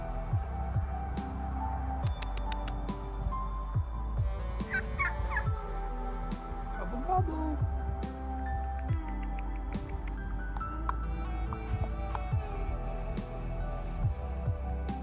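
Turkeys on a farm gobble in repeated bursts, near and loud, with rustling and scattered small noises between calls.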